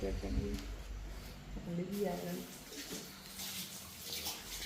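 Water splashing and running as hands and feet are washed outdoors in Jaffna, a soft rushing wash heard under nearby talking voices.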